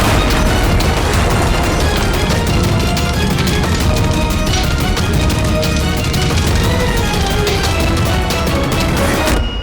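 A bomb explodes in a CID TV crime drama scene, a loud continuous blast and rumble filling the whole stretch with dense crackling debris and no break in intensity.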